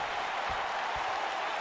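Steady roar of an arena crowd cheering and applauding in a WWE 2K wrestling video game, a continuous dense wash of noise with no clear breaks.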